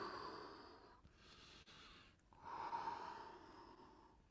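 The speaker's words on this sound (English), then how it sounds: "Breathing." Slow breaths drawn in and let out during a soft, flowing floor-based movement exercise, close and fairly quiet, one long exhale then a fuller breath, with no talking.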